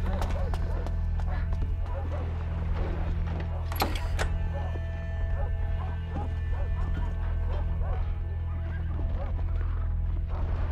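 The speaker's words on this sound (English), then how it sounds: "I'm hearing dogs barking everywhere." Dogs barking and a horse whinnying echo across a medieval French village in A Plague Tale: Innocence, scattered calls over a steady low ambient hum, with a sharp loud burst near the middle.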